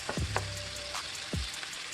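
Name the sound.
seasoned meat frying in a pan for pancit bihon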